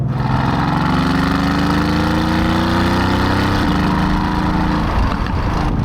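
A 2015 Mercedes-AMG GT S with its engine running, a steady, loud, low droning rumble heard from inside the car, the pitch drifting slightly upward as it pulls gently, with no talking.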